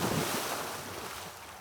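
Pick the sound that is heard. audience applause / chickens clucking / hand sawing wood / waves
waves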